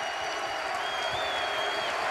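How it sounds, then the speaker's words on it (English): Basketball crowd on its feet cheering and applauding late in a close college game, Providence against Villanova, a dense steady roar of clapping and shouts filling the arena. "The crowd on its feet now, Gary."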